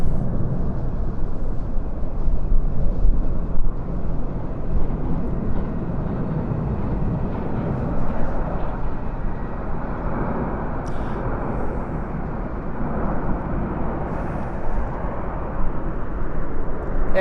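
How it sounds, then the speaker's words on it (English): Red Arrows aerobatic jets in a Platinum Jubilee flypast, a loud, sustained roar of engines that swells and eases over the whole stretch, with crowd noise faintly underneath. "And here they are, the famous Red Arrows."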